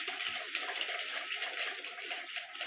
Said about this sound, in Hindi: थोड़ा और मिक्स करते हैं सॉल्ट वाटर को हम लोग।